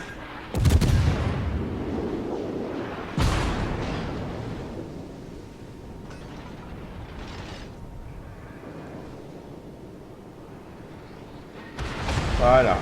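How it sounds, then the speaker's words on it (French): Ship cannon fire in the World of Warships naval game: two loud booming shots near the start and another at the end, with rumbling battle noise between and some speech. "il s'amuse à me tirer dessus au canon"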